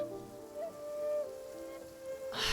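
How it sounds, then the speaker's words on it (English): Rain falls steadily on surfaces in the video game Genshin Impact, a soft, even patter layered under a sustained musical tone, with a brighter burst of noise at the end. "Ah, man, it's raining!"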